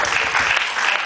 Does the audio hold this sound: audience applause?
yes